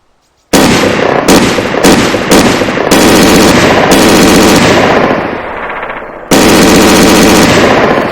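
Rapid machine-gun bursts from a weapon in the Arma 3 IFA3 war mod video game, loud and close, with several short volleys followed by longer sustained strings of fire.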